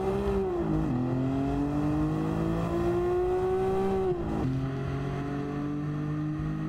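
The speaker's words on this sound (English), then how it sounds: "Oh, I'm still accelerating." A Nissan GT-R launching hard during a generation drag battle of R32 to R35 models, a loud sustained engine note rising steadily with a brief dip near four seconds as it shifts, then climbing again, close and unbroken.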